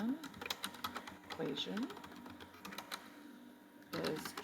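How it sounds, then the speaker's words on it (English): Quick clicks of a computer keyboard being typed on while a teacher builds a slide deck in Google Slides, scattered taps running under close, steady talking. "sorry, my typing's off"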